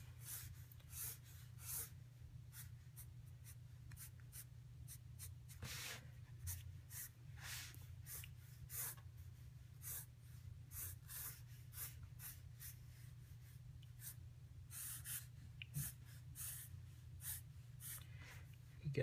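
Pencil strokes on paper while sketching a car, a steady run of short scratchy lines and rubs that come close and fairly quiet over a low constant hum.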